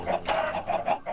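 Chickens clucking in the video game Minecraft, a run of short, repeated clucks at a steady close level with no talk over them.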